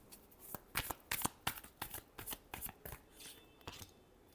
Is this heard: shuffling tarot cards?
yes